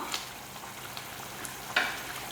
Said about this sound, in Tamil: பாருங்க கொதிச்சுக்கிட்டு விட்டுருக்குப்பா